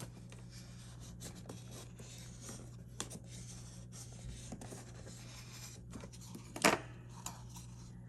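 A bone folder burnishes the paper flaps of a round gingerbread-girl gift bag, producing quiet rubbing and scraping strokes over a low hum, with one sharper crinkling scrape near the end.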